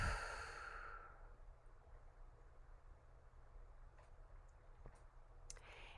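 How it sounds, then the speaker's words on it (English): A long exhale sigh during guided meditation breathing trails off after the first second or so, followed by quiet near-silence with faint breath and a few tiny clicks. "And we're going to breathe."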